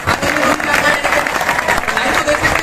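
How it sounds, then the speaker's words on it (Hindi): Seminar audience in Gurugram applauding, with crowd noise and hoots over a short burst of clapping, loud and busy throughout. "तो एक बार जोरदार तालियां हो जाए सर के लिए।"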